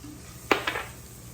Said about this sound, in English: I'm gonna go ahead and add some flour to that. Whisk it around.